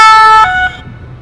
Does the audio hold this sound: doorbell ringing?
no